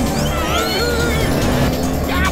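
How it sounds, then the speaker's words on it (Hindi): A cartoon car drives along with a steady engine hum and a few tire-squeal-like whines, loud and continuous throughout, with no voices. "गाड़ी तो मक्खन की तरह चल रही है।"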